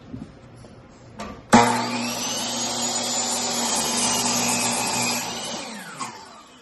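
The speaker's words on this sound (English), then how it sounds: "So I'm just going to align it so the saw cuts through that line." Power saw cutting through a wooden board for a trail sign kiosk roof, a loud steady whining cut lasting several seconds after a sharp start, with faint clatter before and after.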